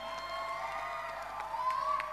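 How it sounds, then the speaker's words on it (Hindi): A distant crowd cheers and applauds at a Garba event in India honoring a Guinness world record for the largest spiritual pot, a faint, steady roar with whoops and tonal sounds mixed in. "जोरदार तालियों के साथ"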